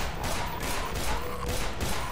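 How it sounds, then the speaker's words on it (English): Rapid pistol fire in the video game Black Mesa: Blue Shift, a dense burst of repeated shots at steady, loud level with no pause across the short stretch. "The pistol shoots so slow"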